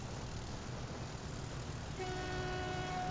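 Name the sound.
train horn honking in the video game Transport Fever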